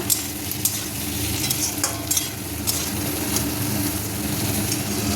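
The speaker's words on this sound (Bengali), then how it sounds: "সো আজকে রান্না হচ্ছে উচ্ছে আলু ভাজা।" Bitter gourd and potatoes fry in a pan with a steady, close sizzle, punctuated by several sharp clicks and scrapes of stirring, against a low background hum and no speech.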